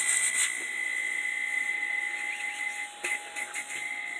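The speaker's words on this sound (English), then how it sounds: "It's blowing air out this side." A salvaged refrigerator compressor runs as a makeshift air pump, giving a steady airy hiss with a faint tonal whine, close and unbroken for a few seconds before dipping briefly near the end.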